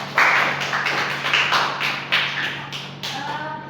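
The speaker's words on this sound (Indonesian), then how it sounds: "Beri tepuk tangan dong untuk temannya" Classroom applause for a student during a microteaching lesson, a dense burst of many hands clapping at close range that swells and fades in waves, with no voices over it.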